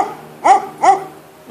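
A dog gives two sharp barks about half a second apart, close and loud, with quiet in between and nothing else around them.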